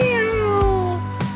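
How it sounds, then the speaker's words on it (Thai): A cat meows repeatedly in a drawn-out, wavering voice, loud and close, with a few short breaks between calls and no talking over it. "เป็นน้องแมวเหมียวนะครับ"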